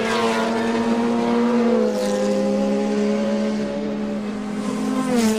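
The Pull Beam MP58 race car climbs the hill at the Simola Hillclimb, its engine a loud, steady high-pitched howl that holds a sustained tone, wavering slightly as it rises and falls through the gears.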